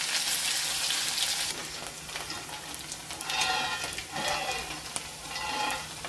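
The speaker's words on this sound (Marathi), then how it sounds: "कांद्याला छान परतून घ्यायचं." Finely chopped onion with cumin sizzles steadily in a kadhai for a Maharashtrian spicy rice, a continuous close frying hiss broken by faint stirring scrapes, with no voice.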